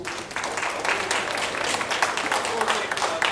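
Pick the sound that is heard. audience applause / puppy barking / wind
audience applause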